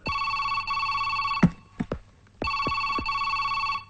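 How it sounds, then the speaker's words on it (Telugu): A telephone rings in bursts in a Telugu film scene, repeated electronic trills broken by a pause with a few sharp thuds before the ringing resumes, fairly loud and close with no talk. "ఆ ఫోన్ రింగ్ అవుతోంది"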